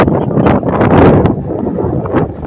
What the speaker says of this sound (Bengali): দেখছিলাম আর লগে লগে দেয় এমন বাইরে বাতাস এবং বৃষ্টি